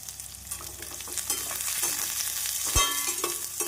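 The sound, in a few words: onions frying with mustard seeds in oil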